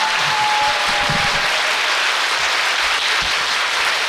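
An audience gives sustained, dense applause at a graduation ceremony for a lecturer training course, a full, steady roar of clapping with no voices over it.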